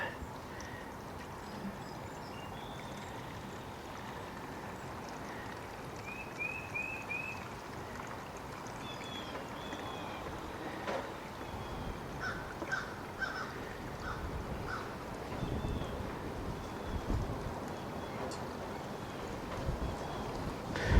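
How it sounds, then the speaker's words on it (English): Wind blows outdoors beside a 1993 Echo PE2400 edger, making a constant low rumble with faint bird calls in the distance. "Hopefully the wind's not getting too bad in the video. It's picking up."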